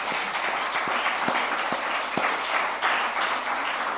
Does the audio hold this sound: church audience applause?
yes